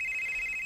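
A cellphone rings with a steady high electronic tone that runs for under a second and then cuts off abruptly, close and clear with no talking.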